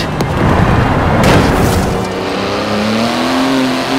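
A 3.8-litre twin-turbo flat-six engine of roughly 700 horsepower in Forza Horizon 4, a loud, deep rumble that builds into a rising rev as the car accelerates close by.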